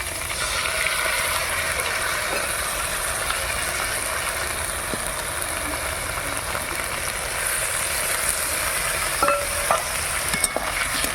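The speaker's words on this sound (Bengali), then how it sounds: "আলু বেগুন লাল লাল করে ভেজে নেওয়া হয়ে গেল এবার দিয়ে দিচ্ছি সর্ষে লঙ্কা বাটা" Fried potato and eggplant cook in a pan with mustard-chili paste for a fish curry. A constant close sizzle fills the scene, with scraping stirs and a few light clicks, and no voices.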